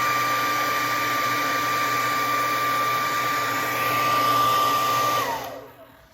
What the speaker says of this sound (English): it's pretty good air pressure coming out of those little holes there